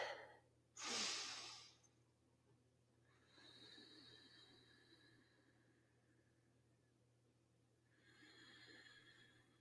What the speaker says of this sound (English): All right, we'll take 3 breaths.